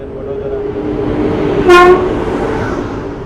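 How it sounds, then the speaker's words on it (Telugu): A Western Railway Vadodara-division train passes near Sevapet Road, its rumble steady under a single short, loud horn blast in the middle. "ఒక ట్రైన్ మనకి స్కిప్ అవుతుంది సేవాపేట రోడ్లో"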